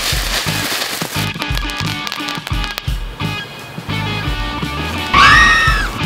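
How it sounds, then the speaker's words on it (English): Fireworks going off outdoors while hot dogs are cooked over them, a series of sharp, loud cracks and pops in an uneven rhythm, ending with a whistling, crackling burst. "Saturdays are for cooking hot dogs over fireworks."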